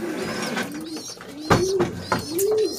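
Pigeons brooding on nests in a loft coo in repeated soft, rolling calls, near and clear, with a few faint chirps and rustles between them.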